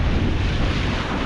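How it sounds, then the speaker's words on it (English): Steady, roaring wind buffets the microphone on a beach during windsurfing, a constant loud rumble with surf noise underneath and no break. "A bit more wind down here."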